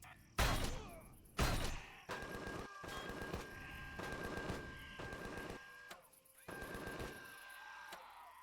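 Turrets fire in Empyrion: Galactic Survival, rapid automatic bursts crackling in several separated volleys, with two sharp heavy blasts near the start and a sustained tone running through the later bursts.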